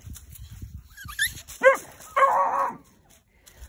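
A wire-haired guard dog barks twice, sharp and close, after some quieter low scuffling and background noise.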